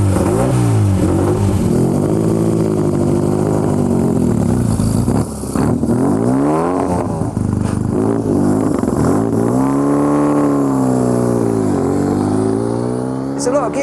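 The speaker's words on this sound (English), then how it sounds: "There's a lot of gear crunching going on up there. And there's a lot of revs." An Elva sports car's engine revs hard up close, its loud pitch repeatedly climbing and dropping through the gears in rising and falling sweeps over a constant mechanical roar.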